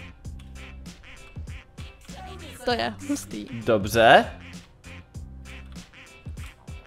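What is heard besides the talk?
ducks quacking in Roblox video game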